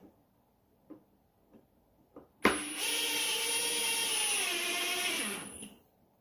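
An electric drill whirs steadily for about three seconds at close range after a few soft clicks while building a birdhouse from scraps, then winds down.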